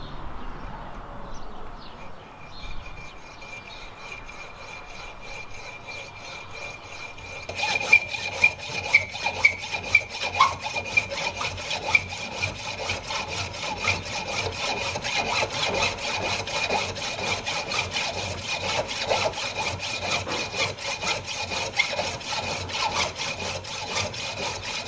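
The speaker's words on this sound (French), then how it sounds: "on va prendre la scie à métaux et en fait, on va faire une entaille d'un côté qui va permettre de passer le fil." A hacksaw cuts a notch into a lead fishing weight clamped in a vise, starting as soft scraping before settling into a long, steady run of rhythmic rasping back-and-forth strokes, close up with no talk.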